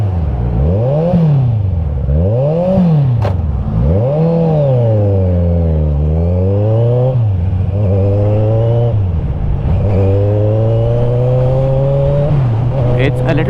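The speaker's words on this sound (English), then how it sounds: "It's a little loud obviously because it's an inline 4 and it's got an aftermarket exhaust" An inline four-cylinder motorcycle with an aftermarket exhaust revs loudly and close by in a series of rising and falling sweeps, then settles into a steadier high drone.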